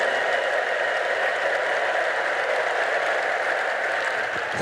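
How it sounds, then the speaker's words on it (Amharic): A church congregation claps steadily and ululates together in praise, a dense, continuous wash of applause with high trilling voices filling the room for several seconds without pause. "ለዚህ ጌታ እልልታ ጭብጨባ እናመጣለን።"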